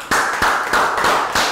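A class gives a quick round of applause in an English lesson, a few sharp evenly spaced claps close by, loud and crisp with brief gaps between them.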